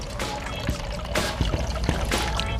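Sugar-free coconut syrup poured steadily into a drink for about two and a half seconds, a close, continuous liquid trickle with a few soft splashy bumps and no talking.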